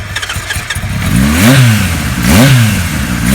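Restored 1974 Kawasaki Z1 motorcycle engine firing up with a few sputtering turns, then two loud rising-and-falling revs heard up close.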